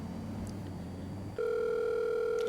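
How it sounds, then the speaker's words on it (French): A telephone gives a steady continuous tone that starts abruptly partway through and holds loud to the end, following a brief stretch of low hum. "T'es pas obligé de répondre au téléphone, Maline."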